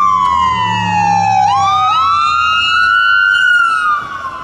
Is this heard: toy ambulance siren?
yes